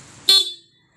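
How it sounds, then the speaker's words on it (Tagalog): Stock horn on a Honda ADV 160 scooter gives one short, bright beep that cuts off quickly and fades into silence. "Stock horn."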